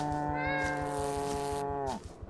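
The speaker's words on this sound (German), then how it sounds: "Das ist eine Katze." A cat in the video game Greyhill Incident gives one long, loud, tonal meow that bends downward at the end and trails off, heard alone with no talking over it.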